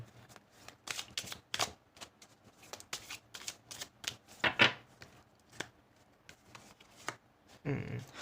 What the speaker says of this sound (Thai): ขอดูไพ่ Romance Angel Oracle Card คำแนะนำจากไพ่หน่อยสิ